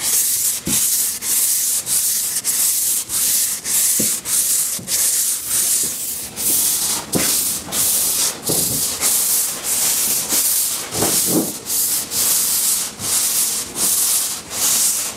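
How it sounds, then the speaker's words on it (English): Sanding block rubbed back and forth across the hood of a 1966 Mustang, a steady stream of loud, rhythmic abrasive strokes at about one per second with no talking. "Cross sand it like that."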